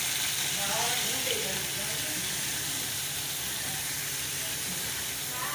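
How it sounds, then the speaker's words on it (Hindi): Yogurt frying in oil in a pan over medium-low flame for beef achar gosht, a steady close sizzle and hiss that holds at the same level throughout with no pauses. "दही का एक भर के शामिल कर दें और अच्छी तरह इसे भून लें मीडियम टू लो फ्लेम में।"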